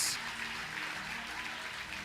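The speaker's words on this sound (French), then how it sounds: "L'église applaudit samedi, applaudit." A church congregation applauding at a Saturday service, a soft, steady wash of many hands clapping at a distance, fairly faint, without distinct individual claps.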